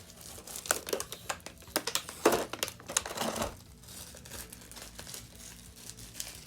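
Plastic packaging crinkles and rustles as parts of a Star Ace Toys Batman Ninja Deluxe Joker figure are pulled from their tray, a burst of close, sharp crackles that peaks and then fades to quieter handling.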